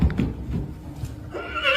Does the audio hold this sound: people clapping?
no